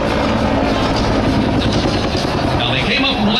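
An AH-1 Cobra helicopter's rotor thumps loudly and continuously close by, with a person speaking underneath the noise.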